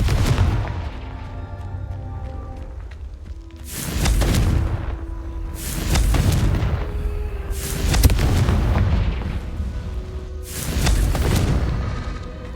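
Confringo fire spells in the video game Hogwarts Legacy set off a series of heavy booming explosions, about four big blasts a couple of seconds apart, each with a roaring, decaying tail, loud and close with no talking.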